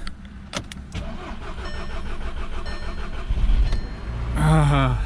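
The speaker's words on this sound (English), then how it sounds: "I know this little unit is strong enough to get this cranking" A long-sitting car with likely low fuel pressure cranks on a Topdon JS1200 jump starter, rhythmic cranking building for a few seconds before the engine catches, with a few sharp clicks early on and a voice at the end.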